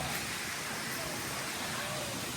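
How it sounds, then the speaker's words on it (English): Hotel pool area waterfall at Westwinds in Miramar Beach, Florida, a steady, loud rush of falling water filling the scene without a break. "Here's another waterfall,"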